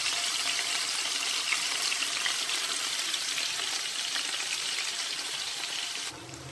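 Kefta meatballs fry in a pan with a loud, steady sizzle and crackle of hot oil that continues unbroken and eases slightly near the end, with no talk.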